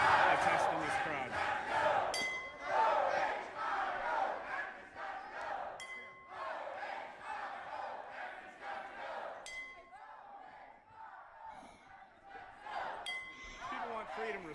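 A large crowd of lockdown protesters shouts and cheers steadily and loudly outdoors, with voices swelling and ebbing and occasional metallic clinks over the dense roar.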